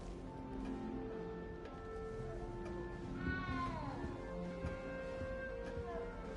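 A frightened little cat meows in the video game Hogwarts Legacy: a few drawn-out, wavering meows, one rising and falling sharply in the middle, heard over a quiet game background with no talking.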